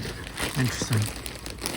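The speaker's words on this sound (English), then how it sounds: "let me get out of this plastic. Ooh, double plastic bag." Crinkling double plastic bags are pulled open around an S.H. MonsterArts Godzilla Rebirth figure from 2014, a few close crackles and rustles beneath a man's brief spoken remark.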